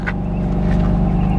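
BMW M4 engine starting up, a deep, loud, steady low rumble close by that fills the brief moment without pause.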